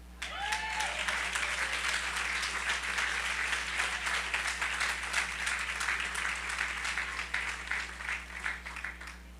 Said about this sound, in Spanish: Yo creo que el Señor merece un aplauso